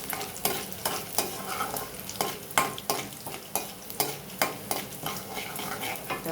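Ginger pieces frying in a pan for semiya upma, a soft steady sizzle punctuated by regular scraping strokes of a spatula stirring, close and rhythmic with no talking.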